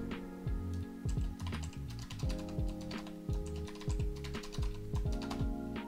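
Keys clatter on a computer keyboard as a root password is entered during a manual Arch Linux install, a close, steady run of quick clicks with brief pauses and no talking.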